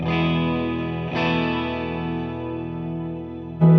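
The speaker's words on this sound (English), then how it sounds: "a shimmer reverb, adds an octave up." Electric guitar runs through a Keeley Caverns V2 pedal set to shimmer reverb, adding an octave-up layer: a strummed chord, a second strike, then a long, glassy sustain before a fresh hit at the end, loud with no voices.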